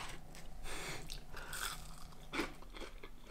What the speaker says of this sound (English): Sounds crunchy. It is crunchy.